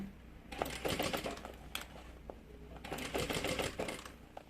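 Sewing machine stitching a seam on a medium double-opening bag, running in two close, steady bursts with a short pause and light handling clicks between them.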